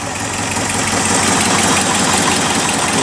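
A warmed-up 1972 International Harvester Travelette 1210 crew cab 4x4 truck engine idles close by, a loud, steady rumbling thrum with a faint knocking pulse and an exhaust leak.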